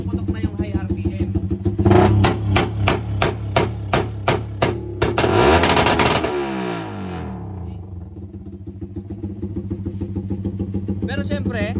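A tuned motorcycle with anti-lag setup revs hard at high RPM, a rapid train of sharp exhaust pops and crackles firing in quick succession, then the engine settles back to a steadier idle-like drone; loud and close.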